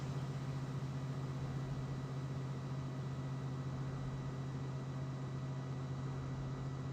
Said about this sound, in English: Even though you hear the engine running, you're okay, you're paused.